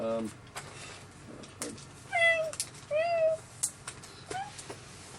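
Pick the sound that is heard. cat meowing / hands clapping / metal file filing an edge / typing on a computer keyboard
cat meowing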